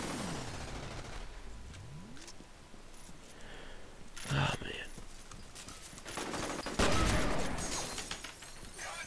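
Gunfire from the first-person shooter F.E.A.R., a few sharp shots and bursts in the middle and late part, with a short talking voice nearby.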